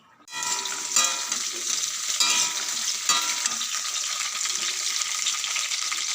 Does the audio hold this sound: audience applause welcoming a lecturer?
no